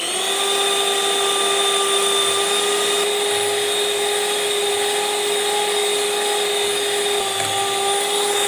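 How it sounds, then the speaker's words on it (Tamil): An electric hand mixer whirs steadily and loudly as it beats sugar into butter for Christmas cake batter, a continuous high motor whine with a faint rise in pitch partway through and no talking. "இப்போ சர்க்கரையை வெண்ணெயில் சேர்த்துக்கிறேன். இப்போ கலக்கி விட்டுக்கலாம்."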